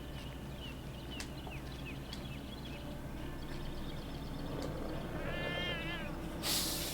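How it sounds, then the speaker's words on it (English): Video game Jenny LeClue: a cartoon cat gives a few short meows over ambient game music, with a brief bright burst of noise at the very end. "Kitty!"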